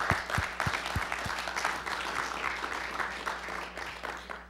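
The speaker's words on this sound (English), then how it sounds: "let's give them a round of applause." Audience applause at a solar energy workshop, a dense, steady patter of clapping at moderate level with a few sharp low thumps early on and a faint hum underneath.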